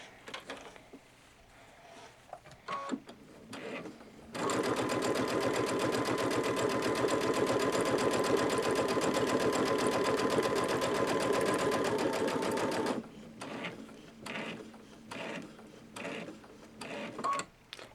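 A Babylock Solaris 2 sewing machine stitches steadily in one loud, even run of about eight seconds, with quieter handling and mechanical clicks before and after.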